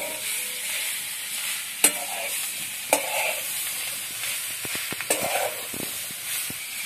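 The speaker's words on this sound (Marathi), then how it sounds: "तर यामध्ये भाजी टाकून आता चांगले हलवून घ्यायचे" A leafy vegetable with onion is stirred in a frying pan, giving a soft, steady sizzle punctuated by a few sharp utensil clanks and scraping taps, close and fairly quiet with no talking.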